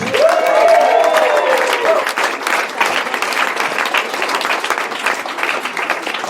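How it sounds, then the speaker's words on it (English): Audience applause at a live comedy show in East London, roughly 200 people clapping loudly and steadily, with a brief whoop or cheer rising above the clapping early on. "Give Russell another round of applause."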